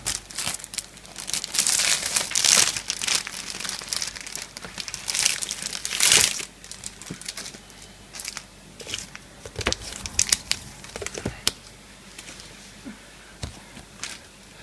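Scissors snip and crinkle through the plastic wrapping on a Pokémon magazine, a busy run of close crackling and tearing bursts that comes in uneven spurts and then thins out toward the end.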